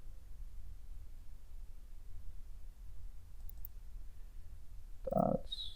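A computer mouse clicks a few times in quick succession near the end, faint and close, following a stretch of quiet room hiss.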